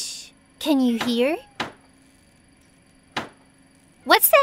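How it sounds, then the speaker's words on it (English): A cartoon window flapping in the wind knocks twice, each a single sharp knock spaced well apart, between bursts of animated character speech. "What's that knocking?"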